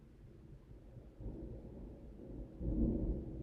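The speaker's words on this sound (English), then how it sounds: "And I hear thunder out there." Distant thunder outside, a low, soft rolling rumble that swells gradually and grows louder toward the end, with no voices.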